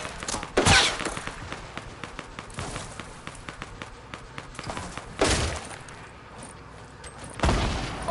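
Gunshots in Fortnite: scattered sharp cracks and a rapid run of shots, with louder bursts near the start, middle and end over quieter thumps and footsteps.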